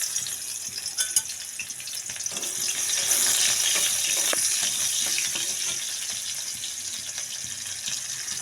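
Sliced onion hitting hot oil in a wok, a bright continuous sizzle that swells after a couple of sharp clinks and then holds steady and close, with no speech.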